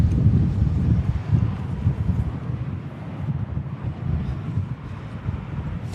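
Strong crosswinds buffet the microphone at an airport in a constant low roar with gusty surges, loud and close, no voices.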